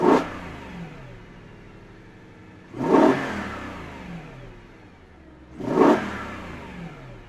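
A BMW E92 M3 fitted with an Eventuri carbon-fibre intake and sports filter revs in three sharp blips to about 3,000–4,000 rpm, each loud burst falling away into a quiet idle before the next.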